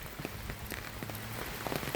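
Storm rain pours steadily on a farm, a dense continuous patter of drops striking surfaces, with faint scattered clicks and a low hum beneath.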